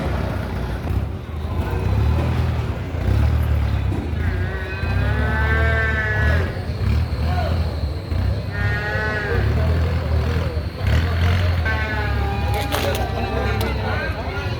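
Water buffalo and other livestock at a livestock auction market give repeated low moos and calls amid crowd chatter, with people talking nearby throughout.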